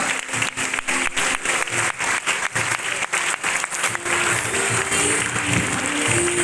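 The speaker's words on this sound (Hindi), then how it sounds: "जोरदार जोरदार तालियां।" Loud applause from a crowd at an award recognition ceremony, with sharp rhythmic clapping at first that blends into a dense, continuous roar of hands, with music faintly underneath.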